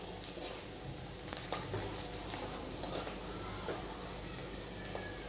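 Garlic sizzling and frying in a pan while being stirred for a Manchurian recipe, a steady low hiss with faint scraping stirs throughout, fairly quiet and continuous.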